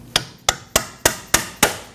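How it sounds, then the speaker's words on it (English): Hammer striking a pry bar to knock loose a steering rack bellows clamp on a 2014-2023 Ford Transit Connect, six sharp metallic hits at an even, steady pace, close and loud with short ringing decays. "Strike this with a pry bar and hammer to disengage it."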